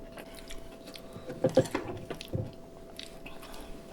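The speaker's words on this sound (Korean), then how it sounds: "처음부터 고추를 씹었어" Someone close to the mic chews a Cheongyang chili pepper while eating a spicy pork stir-fry and Korean bibimbap meal, giving soft, wet bites and mouth sounds in short bursts, strongest in the middle, over a steady low background hum.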